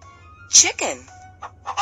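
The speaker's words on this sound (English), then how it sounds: "Chicken." A chicken clucking in an animal puzzle game gives a few quick, close, sharp clucks with falling squawky tones in under two seconds over a low background hum.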